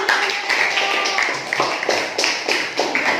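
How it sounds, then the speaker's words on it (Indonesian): Students in a classroom clap after a religious studies group presentation, a short burst of scattered, close, uneven hand claps. "Tepuk tangan"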